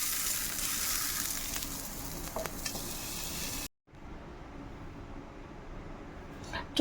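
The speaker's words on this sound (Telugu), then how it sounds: "ఇందులో కలిపేసుకుందాం తాలింపులు." Hot tempering sizzles as it is stirred into a raw cucumber chutney, a steady close hiss of frying oil that breaks off briefly partway through, then resumes with a small clatter at the end.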